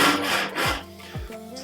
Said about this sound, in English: I'm going to get out my hand saw and cut the two pieces.